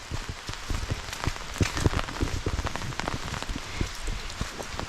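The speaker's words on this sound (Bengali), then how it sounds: "ঘন জঙ্গল, তার মধ্যে ঝিরঝিরি বৃষ্টি" A light drizzle patters steadily nearby in a dense forest in the Dooars, with many small drops tapping at irregular intervals and no voices.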